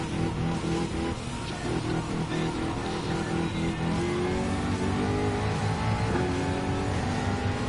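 A Jaguar F-Type Group 3 race car in Gran Turismo 7 holds a loud, steady engine note with rising and falling revs as it shifts through gears, close up and with no talk.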